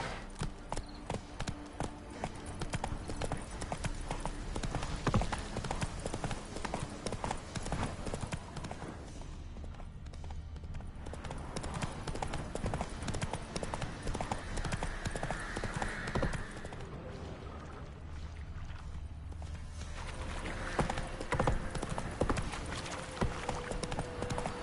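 Roach, a horse in The Witcher 3: Wild Hunt, trots with steady clip-clopping hooves throughout, fairly close, under a constant game ambience, with a brief faint whinny and some low voice.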